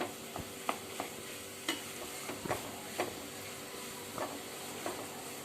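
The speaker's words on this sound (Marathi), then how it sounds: "आपले आता बटाटे मॅश करून झालेले आहेत। आपण एकदा छान परतून घेऊ त्याला।" Mashed potatoes for a spicy fasting potato curry are stirred and sautéed in a pan, giving irregular spoon scrapes and clacks over a soft, steady sizzle, with no talking.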